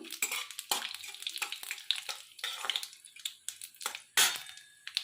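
Bay leaf, dried chili and panch phoron frying in oil: busy close clatter of a spatula stirring in a pan, rapid scrapes and taps with a light sizzle, no voices.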